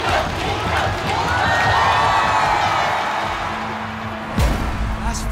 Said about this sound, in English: The crowds cheer.